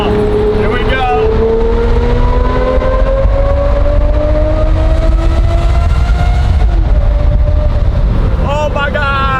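A loud V12 engine roars through a Phoenix road tunnel, its note climbing in a long rising sweep as it revs, echoing close and continuous, then surging again near the end, with excited voices over it.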